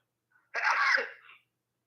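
A single sharp, close human sneeze with a short airy burst, heard alone against silence.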